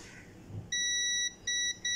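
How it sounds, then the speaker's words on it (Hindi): A multimeter on continuity test beeps while its probes touch points on a mobile phone circuit board: a steady tone of about half a second, then two shorter beeps, over a faint quiet background. "अरे देखिए यहाँ पर बीप चल पड़ रहा है बीप चल रहा है"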